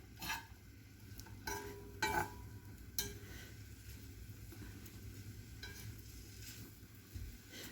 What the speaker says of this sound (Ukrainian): Я все це перемішаю.